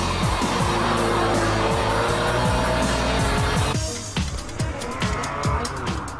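A Lamborghini Diablo GT supercar roars past at full throttle on a race track, its loud engine note rising steadily, then dropping away to a rougher, fading rumble with some tire noise.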